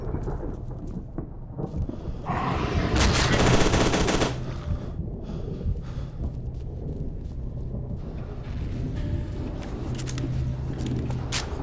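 Shooting at ghosts in F.E.A.R. 2: Project Origin brings loud sustained gunfire, with a dense burst of rapid shots in the middle over a steady rumbling, rain-like game background.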